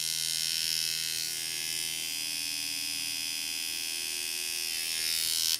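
Tattoo machine running with a 5-round liner cartridge at setting 9, a steady close electric buzz with high whine that holds evenly throughout without pauses.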